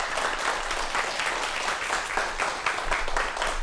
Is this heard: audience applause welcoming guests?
yes